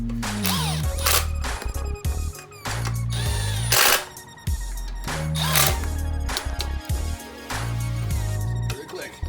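Power tool driving bolts into a Coleman mini bike engine, loud whirring bursts that start and stop repeatedly, up close and slow.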